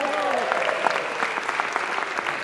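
An audience at a spring convocation claps in a sustained burst of applause, many hands patting quickly and evenly throughout, with a voice audible over the clapping.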